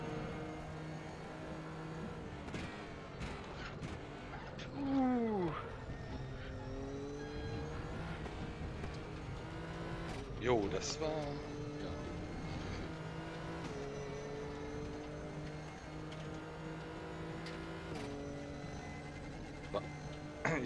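Loud GT race car engine in the RaceRoom racing game, ADAC GT Masters GTR3 class, revving up and down through gear changes with a sharp whining sweep around the middle, while a voice briefly speaks over it.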